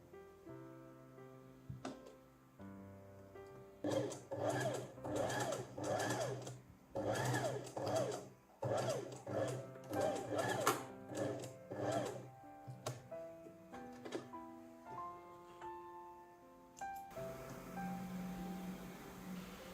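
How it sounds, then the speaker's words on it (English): A sewing machine stitches along the hem fold of a button-front dress in a string of quick, rhythmic bursts that stop and start as the fabric is pivoted. The sound is close and fairly quiet, with no talk. "Pivot the fabric again and stitch along the hem fold."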